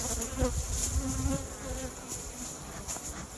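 Honeybees buzzing steadily around an opened hive during a February feeding check, a close, continuous insect hum with faint rustling and no talk.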